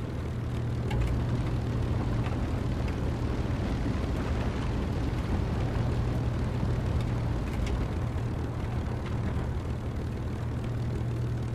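Propeller aircraft engine drone, steady and loud, from a flight combat game as the plane comes in to land with gear and flaps down, a constant low hum with a rumbling roar throughout.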